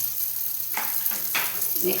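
Spices with turmeric and chili powder frying in oil, a close steady sizzle broken by two bursts of scraping as a spatula stirs through the pan.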